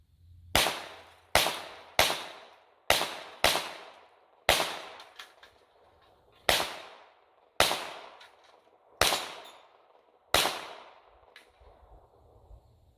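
A Smith & Wesson 22A-1 .22 pistol fires about ten sharp, loud shots at cans outdoors, spaced unevenly in quick succession, each crack trailing off briefly before the next.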